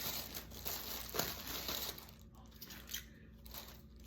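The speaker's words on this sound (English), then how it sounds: "So first I cut all of the green leaves off the back." Green leaves being cut and pulled off the back of a whole cauliflower, giving close crisp crunching and crinkling snaps that come and go over a steady low background, with no talk.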